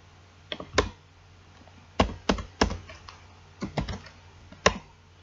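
Keys clack on a computer keyboard in short uneven bursts with pauses between, crisp and close in an otherwise quiet room.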